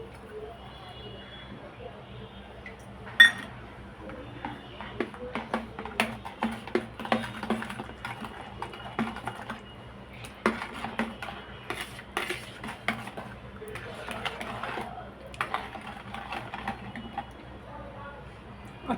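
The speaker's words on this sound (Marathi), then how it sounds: "आता मी ह्यामध्ये 1 वाटी पिठी साखर मिक्स करते." A spoon mixing powdered sugar into curd in a bowl, with irregular close clinks and scrapes against the dish that build into a busy stirring rhythm, while someone talks in the background.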